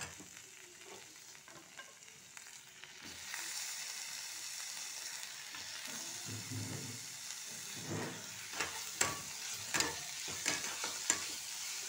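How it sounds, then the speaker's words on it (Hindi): Onion and tomato fry in a pan for dal tadka, a steady sizzle with a scraping spoon stirring them. Stirring clatters grow louder and more frequent toward the end, and no one speaks. "प्याज हमारा ब्राउन होने लगा है, डाल देते हैं इसमें हम अपना टमाटर।"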